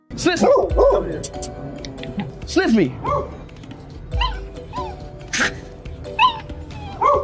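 A dog yips, whimpers and barks in short bursts, interleaved with excited human talk and shouting.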